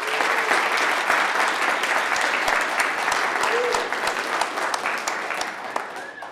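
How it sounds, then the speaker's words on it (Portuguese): A large audience claps steadily and densely for several seconds at the Caipyra 2019 Python conference lightning talks, thanking the event organizers; the applause stays full and even throughout with no talk over it. "eu queria pedir uma salva de palmas de todo mundo aí para a organização do evento"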